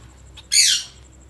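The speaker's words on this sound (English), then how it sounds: "What are you doing, my three finches?" Pet finches in an indoor cage give one short, bright, high squawking call, close and clear, preceded by a faint chirp and followed by quiet.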